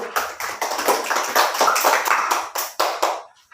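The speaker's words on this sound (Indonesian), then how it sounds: "Mari kita tepuk tangan untuk kelompok 1" A small classroom group claps for a presenting team, a few seconds of loose, uneven handclaps close by that quickly taper off into silence.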